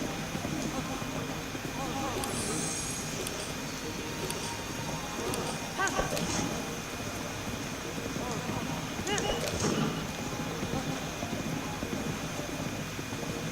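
Horse hooves clip-clop steadily near a stable in the video game Zelda: Breath of the Wild, a soft, even trot set under a constant hiss of game ambience.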